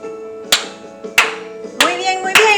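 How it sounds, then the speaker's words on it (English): Group of children clapping hands at a bilingual storytime, four loud sharp claps spaced irregularly over a faint sustained background tone. "start clapping"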